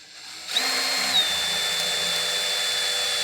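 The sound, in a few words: power drill drilling metal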